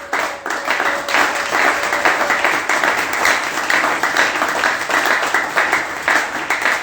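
Church congregation clapping and cheering in praise, a loud sustained round of dense applause with rhythmic clapping lasting the whole stretch.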